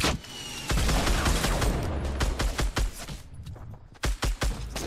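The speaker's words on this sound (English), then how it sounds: "Stop shooting me, boy." Sustained video game gunfire in a duo battle royale match, dense rapid automatic bursts and loud booms, close and continuous with brief gaps.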